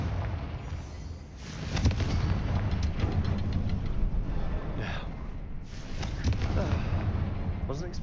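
Confringo fire spell in the Hogwarts Legacy video game: booming, crackling blasts with dense rumbling bursts and sharp pops, loud and repeated, over game battle noise and a voice talking.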